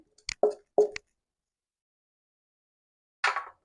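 A thick peanut and date jaggery mixture plops into a greased tray in a few soft, sticky bursts, then a pause before a brief scraping pour near the end; close and fairly quiet with no talking.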